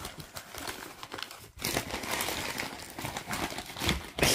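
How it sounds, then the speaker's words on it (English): Crunchy paper is crinkled and crumpled close by, a continuous dense crackling that pauses briefly, then resumes louder and busier. "Crunchy paper"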